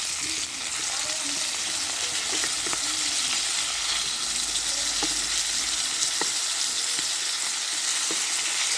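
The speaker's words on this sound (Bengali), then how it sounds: "মাছ ভেজে নিচ্ছি এখন" Fish frying in a pan, a loud, dense, continuous sizzle with occasional faint clicks and taps throughout.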